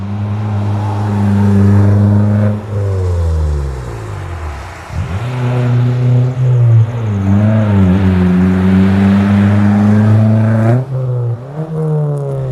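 A stripped-out, rally-ready INRC VW Polo with a 1.2 TSI engine, manual gearbox and MoTec ECU revs loud and close, rising through the gears with brief dips at shifts.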